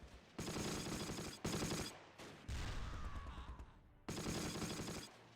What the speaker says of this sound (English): There's some shots coming from over here, for sure.